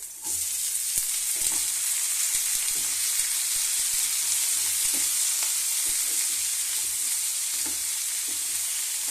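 Radish sizzles and fries steadily in a hot pan with green chillies, a loud continuous crackling hiss with small stirring clicks throughout and no talking.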